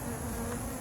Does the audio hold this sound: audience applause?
no